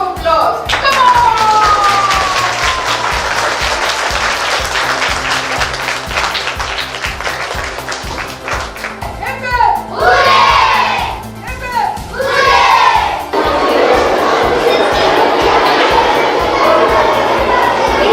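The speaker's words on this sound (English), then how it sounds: "this calls for a big round of applause" An audience of children and adults at a class exhibition claps and cheers loudly, with shouts and chatter mixed into the sustained applause. Music plays underneath, and the crowd noise swells in bursts.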